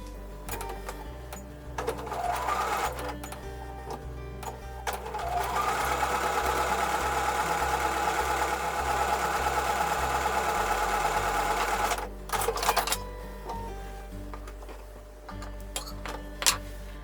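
Sewing machine stitching a quilt block along a drawn line, a steady mechanical whirring run of stitches lasting several seconds, framed by short bursts and clicks of starting and stopping.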